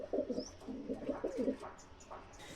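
A male Chinese pigeon in a pigeon house coos close by in soft, rolling bursts repeated several times, with faint bird chirps in the background.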